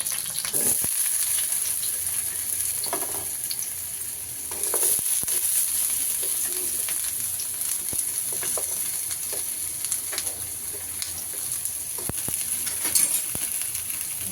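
Mustard seeds fry in hot oil in a pan, making a continuous close sizzle with light crackles, small pops and occasional scraping of a utensil.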